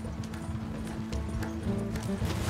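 Horses gallop in steady rhythmic hoofbeats across a Western landscape in the Red Dead Redemption 2 video game, with a constant rumble of movement beneath.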